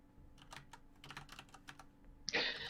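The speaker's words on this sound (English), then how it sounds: "I am typing in all caps." Typing on a computer keyboard, a quick irregular run of close clicking keystrokes at moderate level, ending in a louder burst of clatter, with no talk over it.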